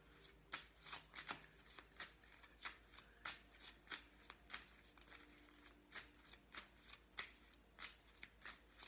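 Tarot cards being shuffled by hand before one is pulled, with a steady run of quick riffling bursts close up and quiet, without speech.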